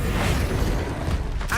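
A Bombarda spell blast in Hogwarts Legacy: a dense, booming burst with crackling, grinding debris that stays loud and close for the whole moment before a brief rising swish at the end.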